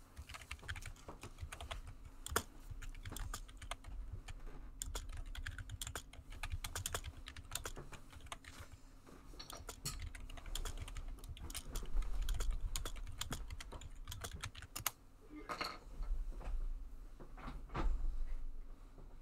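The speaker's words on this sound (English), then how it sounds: "You have some loud typing there." Loud, rapid keystrokes clatter on a computer keyboard, an irregular run of sharp clicks and heavier thumps filling the stretch, close to the microphone with a low background hum.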